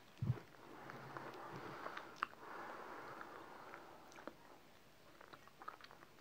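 Someone bites and chews chalk, with one sharp crunch at the start followed by faint, soft grinding and a few small crackles, close up and quiet.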